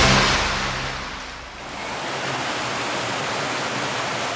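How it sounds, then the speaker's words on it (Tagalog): Mountain water pours through natural rock pools that form a string of jacuzzi-like basins, making a continuous broad rushing roar. It dips briefly partway through, then stays steady and full, with no voices. "ang tubig na dumadaloy diretso mula sa bundok"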